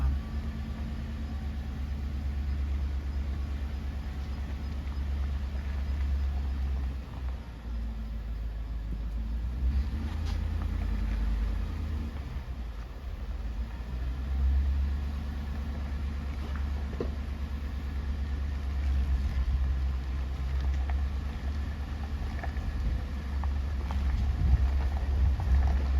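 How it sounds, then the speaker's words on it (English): A truck engine runs at a low, steady rumble while backing up a trailer to pick up a Corvette, heard as a continuous close drone with slight swells and no other distinct sounds. "Somebody's watching me back up the trailer."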